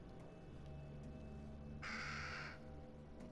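In the horror video game Little Hope, a crow gives a single harsh caw midway through, heard against a quiet, low ambient drone.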